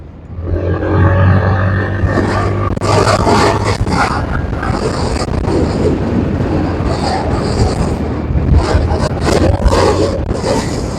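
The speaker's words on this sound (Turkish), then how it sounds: "Aşırı aşırı rüzgar var." Loud, continuous roaring rumble of wind buffeting a phone microphone on a moving RKS Grace 202 motorbike, with scraping noise throughout and a low engine hum at the start.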